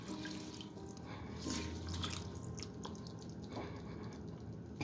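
Lemon juice is squeezed from a whole lemon into a Cajun crab cake mix, making a steady wet dripping and trickling close by with no talk.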